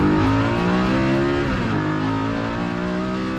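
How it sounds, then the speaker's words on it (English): An RCR Superlite Coupe with factory Corvette exhaust manifolds, an X-pipe and dual stainless mufflers gives a loud, close engine note that climbs and then drops in pitch as it revs and passes. "It's all stainless, starting with factory Corvette exhaust manifolds into an X-pipe and then out into dual mufflers that exit below the rear fascia."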